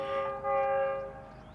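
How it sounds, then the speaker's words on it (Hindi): A loud, sustained train horn of the passing 46 Down Pakistan Express at Jung Shahi Station blares in one long tone, briefly dipping and swelling before fading out. "और ये हॉर्न की आवाज़ आ रही है 46 डाउन पाकिस्तान एक्सप्रेस की"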